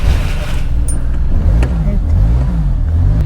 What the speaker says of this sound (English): So the car has started